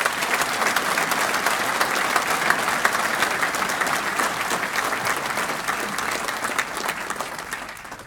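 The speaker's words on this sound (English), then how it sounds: "A round of applause, please" Sustained, loud audience applause at the Boston Fire Department graduation in 2017, dense crowd clapping that holds steady for several seconds and eases slightly toward the end.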